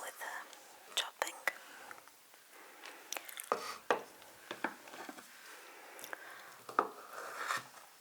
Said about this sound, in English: Now let's start with chopping